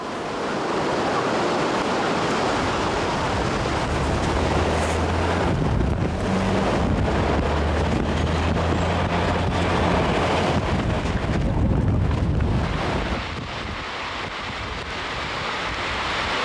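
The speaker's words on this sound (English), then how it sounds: "The highest reported wind gust in the last hour here in Portland was 61 miles per hour with sustained winds at 43 miles per hour." A strong gusting winter wind storm in Portland with gusts near 61 mph, heard as a loud, continuous broadband roar that swells and buffets throughout before easing slightly near the end.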